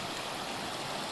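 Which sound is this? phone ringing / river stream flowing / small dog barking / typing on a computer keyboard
river stream flowing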